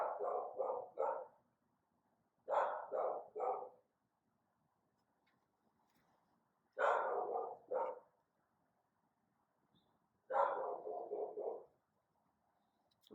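A dog barks in four separate bursts of three or four quick, loud, close barks, with quiet gaps between them and no talking.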